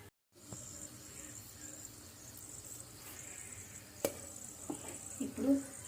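Bay leaf, cardamom, cinnamon and cloves crackle in hot oil in a pan for Telangana-style mutton curry, a steady low sizzle with a few brief stirring clinks near the end.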